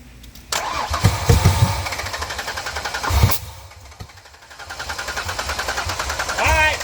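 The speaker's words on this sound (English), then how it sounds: "this is not how you fire a motor, but she does fire" A 1992 Ford Ranger pickup engine sputters and fires with loud, rough bursts through an open exhaust, dying back before catching again; voices are heard nearby.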